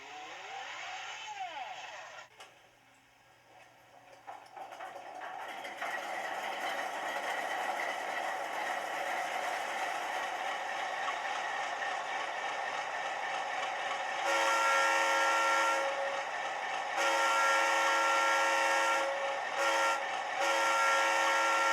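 A model railroad locomotive runs steadily on a layout, with a continuous motor whine and sound-decoder chuffing, then a repeated horn sounding in bursts near the end.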